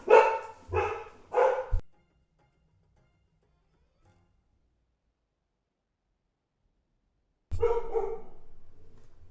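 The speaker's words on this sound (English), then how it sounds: "And we're barking at nothing." A dog barks three times in quick succession, fairly loud and close, then after a long silence a longer burst of barking or yapping follows.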